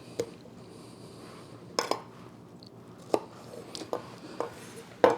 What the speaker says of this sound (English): I'm going to slice it down the center